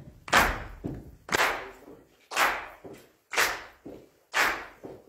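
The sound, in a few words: congregation clapping hands and stomping feet in rhythm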